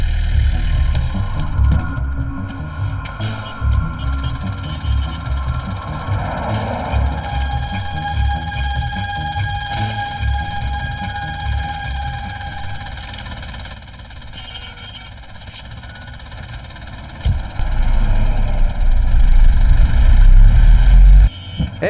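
A vehicle engine idles with a steady low rumble, close and fairly loud, holding for a long stretch before swelling louder near the end as it revs or shifts, with a faint tonal whine over part of it.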